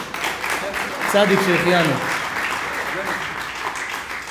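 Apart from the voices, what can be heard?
audience applause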